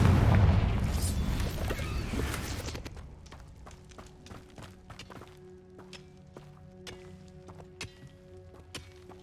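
A Confringo fire spell bursts in Hogwarts Legacy, a loud booming blast for the first few seconds that fades into a string of sharp clicks and light thuds.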